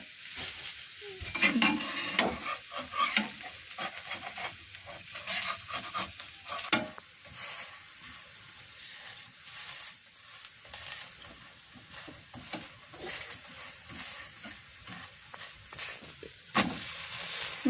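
Dosa batter with onion, chilli and coriander frying in oil in a pan in a village kitchen gives a steady close sizzle, broken by repeated scraping and stirring sounds, with no talk.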